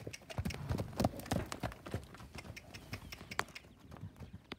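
Hooves of a black saddlebred mare clip-clop in a quick, uneven run of close hard strikes, moderately loud, then trail off toward the end.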